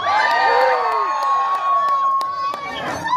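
A festival audience at a fire performance at the Colorado Renaissance Festival in Larkspur cheers and whoops, overlapping voices loud and close with sharp shouts rising throughout.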